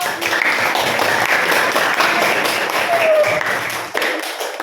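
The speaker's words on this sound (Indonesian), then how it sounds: "beri tepuk tangan dulu untuk kelompok" A classroom audience claps for a presenting group, a steady, fairly loud spatter of hands lasting several seconds, with faint voices mixed in.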